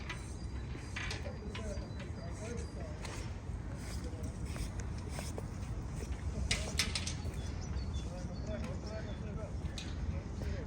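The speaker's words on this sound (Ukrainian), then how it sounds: "птахи співають" Birds chirping outdoors along a riverside park embankment on a warm day, small calls scattered in the background beneath steady talk and general park ambience with footsteps.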